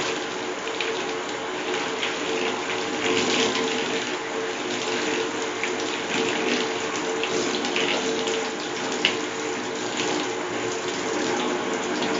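Tap water runs steadily while hair is washed with shampoo, a continuous hissing flow with faint splashing and no speech over it.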